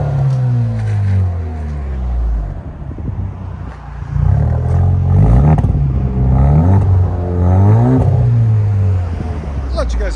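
A 2019 Alfa Romeo Giulia with a 2.0L turbo engine and muffler delete rumbles outside, with several throaty rev swells rising and falling over a low idle, loud and close.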